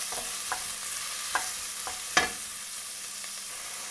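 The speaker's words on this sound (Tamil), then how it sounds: "வெங்காயம் அப்புறம் பச்சை மிளகாய் ரெண்டு சேர்த்துக்கலாம். சேர்த்துட்டு பொன்னிறம் ஆகிற வரையிலும் கொஞ்சம் வணக்கிக்கலாம்." Onions and green chillies sautéing in a pan while mutton chukka is cooked, a steady high sizzle with a few sharp scrapes of the spatula spaced across the stretch, no voices.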